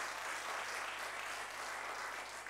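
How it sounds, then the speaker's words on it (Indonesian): Church congregation applauding during a sermon, a dense, steady wash of clapping that holds evenly throughout with no voices over it. "tepuk tangan buat Tuhan kita"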